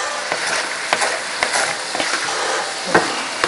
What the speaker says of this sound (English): So I'm just gonna keep that boiling, simmering like that.